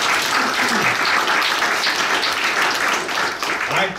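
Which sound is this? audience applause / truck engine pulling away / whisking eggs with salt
audience applause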